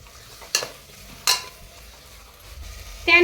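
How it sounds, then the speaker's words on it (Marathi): Chicken stirred into sizzling masala in a pan: a few sharp scraping stirs break over a soft frying hiss, the sizzle swelling louder near the end, with no voices. "हे चिकन आता या मसाल्यामध्ये मिक्स करून घ्यायचं आहे"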